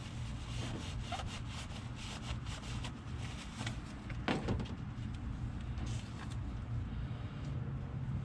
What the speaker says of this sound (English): What I'm going to do is wipe those threads down because they got some rust on them.